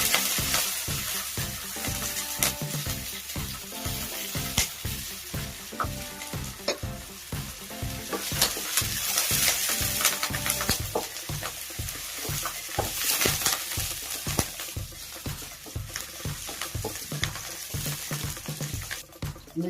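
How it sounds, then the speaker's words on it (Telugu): Garlic and chilli fry in a pan with a loud, continuous sizzle, broken by a steady rhythm of utensil scrapes and taps as the pieces are stirred, close up and with no voices. "వెల్లుల్లి వేగింది కదండి."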